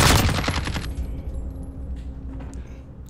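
MP7 submachine gun fire in Modern Warfare, a rapid loud burst at the start that quickly thins into decaying echoes and faint mechanical clicks.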